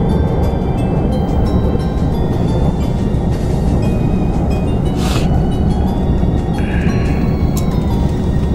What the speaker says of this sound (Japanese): 列車とそれ違いを行いました。